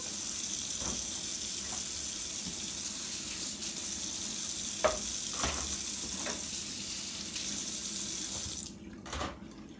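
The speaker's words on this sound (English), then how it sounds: "And to clean it, split rinse under the tap." Water runs steadily from a tap as an Aeropress coffee maker is rinsed clean, a constant splashing wash with a few light knocks of plastic, before the flow cuts off near the end leaving brief handling clatter.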